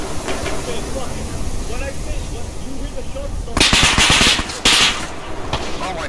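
Gunfire in the video game Operation OKB Zero: a loud, dense volley of rapid shots erupts partway through, breaks off briefly, then resumes in a short second burst over steady background noise.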